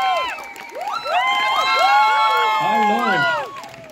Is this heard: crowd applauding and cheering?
yes